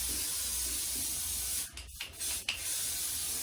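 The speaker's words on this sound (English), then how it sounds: "I have to spray it, otherwise it'll flop all over the place" Hairspray sprayed onto hair as a steady, close aerosol hiss that runs almost the whole time, broken by a couple of short pauses near the end. No voices.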